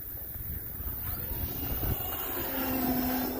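Distant, steady buzz of an E-flite T-28 RC airplane engine in flight on a cold afternoon, partly buried in wind noise, with the pitch and loudness rising as the throttle opens near the end.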